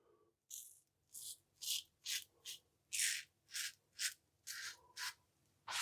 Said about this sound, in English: Very smooth on the against the grain pass.